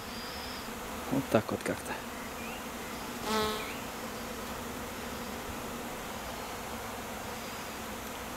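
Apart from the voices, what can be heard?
honeybee swarm arriving without a queen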